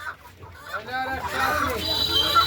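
Chickens cluck and squawk nearby at a busy, noisy market, with some indistinct voices mixed in.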